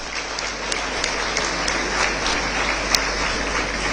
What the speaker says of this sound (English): Let's give Varshini another big round of applause.